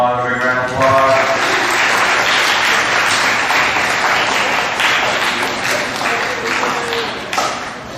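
A school awards assembly audience claps for honor roll students, and the sustained applause runs loud and even for several seconds. A voice trails off at the start and light taps poke through near the end.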